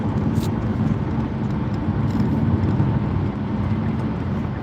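Kia Soul cruising along Houston HOV lanes, heard from inside the cabin as a steady, loud low road-and-engine rumble with constant tire noise and no speech.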